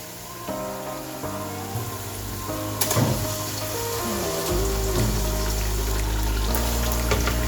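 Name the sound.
pouring blended tomato paste into beef stew pot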